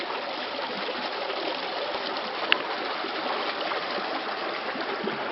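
Mekong River water rushes steadily over rock rapids, a broad, even hiss and gurgle of flowing water heard close and continuous, with no voices.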